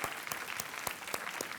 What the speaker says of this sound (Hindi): तालियों के साथ आपका हम अभिनंदन करें।